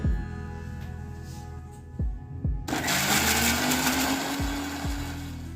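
Radish paste being ground in a kitchen mixer grinder, which starts partway through as a loud, steady whirring roar with a rising motor whine after a few low thumps, carrying on to the end.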